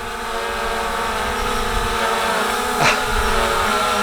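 Hubsan Zino 2 drone hovering in the wind, a steady high-pitched propeller whine with layered tones and a brief rushing gust near the end.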